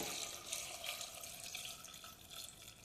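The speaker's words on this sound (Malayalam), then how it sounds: "ഇനി ആവശ്യത്തിനുള്ള വെള്ളം ഒഴിക്കാം" Water pours steadily into a pot of chole masala, a quiet continuous splashing stream.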